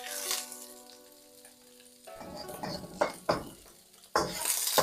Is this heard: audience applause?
no